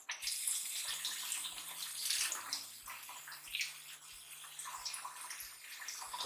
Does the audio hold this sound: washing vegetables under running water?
yes